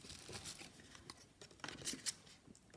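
Scissors snip through paper scraps being cut for envelope liners, a quiet series of crisp, irregular cuts with faint paper rustling between them and no talking.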